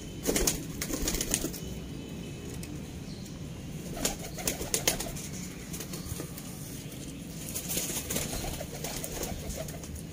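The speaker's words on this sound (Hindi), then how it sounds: "है दोस्तों बटेरा अली वाला कबूतर है।" Pigeons for sale in Sialkot coo in a low, steady murmur while occasional bursts of wing flapping break through, fairly close and continuous throughout.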